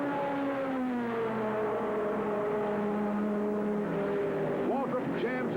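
A 1970s stock car roars at the 1977 Southern 500 at Darlington, a steady droning engine whine with slowly shifting pitch and a brief rising rev near the end, continuous and fairly close.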